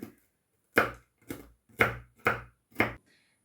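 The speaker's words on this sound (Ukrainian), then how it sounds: "Січу горіхи не дуже мілко, так, щоб траплялися шматочки в куті" Walnuts are chopped with a knife for kutia in five distinct, evenly spaced knocks on a board. They are close and fairly loud, with silence between them.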